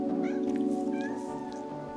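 Kittens at a farmhouse mew in a few short high-pitched calls over a steady low background hum.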